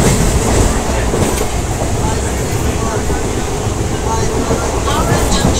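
A moving passenger train heard from inside a carriage, loud steady rumble and rattling clatter of wheels on track filling the whole stretch, with a voice talking over the noise.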